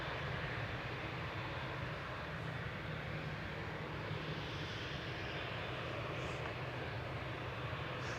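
A Qatar Airways airliner takes off from Manchester Airport, giving a continuous, broad engine roar that holds steady and loud throughout with no voices.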